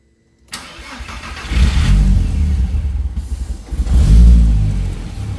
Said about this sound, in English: Let me see if she starts easily